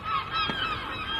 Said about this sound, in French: et des mouettes